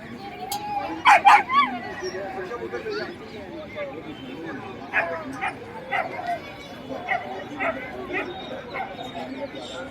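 Dogs bark and yip in short bursts amid a kennel club dog show ring in Jalandhar, Punjab, with a busy crowd murmur and announcements running underneath; the loudest barks come early, then scattered sharper yips follow.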